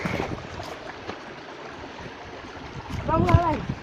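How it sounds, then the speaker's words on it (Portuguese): Steady broadband rush of a waterfall in a forest, with water now running polluted like sewage, continuing under the whole stretch; near the end, tonal voices or calls cut in briefly. "Tá dando muito barulho, não liga, por causa da cachoeira"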